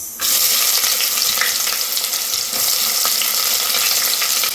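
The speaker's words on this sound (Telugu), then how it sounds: "గోల్డెన్ బ్రౌన్ కలర్ వరకు ఫ్రై చేసుకోవాలి" Onions frying in hot oil in a pressure cooker, a steady bright sizzle that runs without a break at close range, with no voices.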